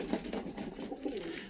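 Low, throaty cooing of racing pigeons nearby, soft rolling calls repeating in a gentle rhythm.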